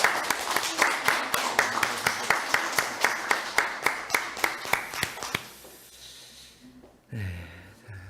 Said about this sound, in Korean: 우리 환영의 박수 한번 드리도록 하겠습니다